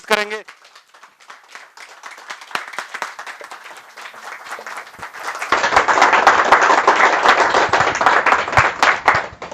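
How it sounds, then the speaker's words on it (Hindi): An audience gives loud, sustained applause to welcome speaker Atul Jain at an insurance training session, building to a dense roar in the second half, with a voice speaking over the clapping early on. "अब हम जोरदार तालियों"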